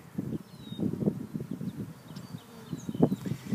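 Honeybees swarming around the entrance of a backyard hive on a spring day, a steady low buzzing of many insects with rising and falling swells, close by and without talk.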